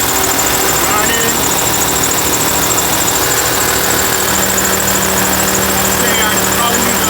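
A truck engine idling with a steady, loud mechanical drone and buzzing vibration that holds constant throughout, with no break in the running sound.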